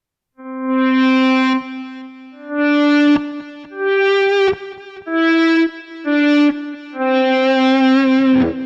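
Electric guitar with a volume pedal placed first in the signal chain plays a series of about six swelled notes and chords, each fading in softly, with a slightly driven, effected tone; no speech.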